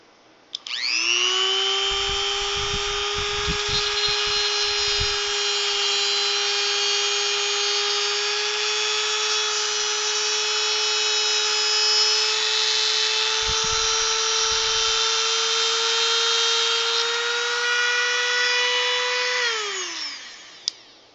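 A power tool cuts through metal screws in one long, loud, steady high-pitched whine lasting about twenty seconds, with a brief rev-up at the start and a falling pitch as it spins down at the end.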